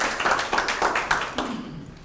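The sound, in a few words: audience clapping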